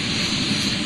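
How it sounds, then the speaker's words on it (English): The Artemis II SLS moon rocket's RS-25 engines and solid boosters igniting at liftoff from Kennedy Space Center, a loud, steady, broadband roar that fills the whole moment with no break. "RS-25 engines lit. 4, 3, 2, 1. Booster ignition. And liftoff."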